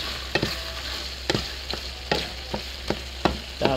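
Ground pork simmering in chipotle and enchilada sauce sizzles steadily while a spoon scrapes and stirs it in the pan, giving regular, fairly close clicks and scrapes about once every half second over the frying hiss.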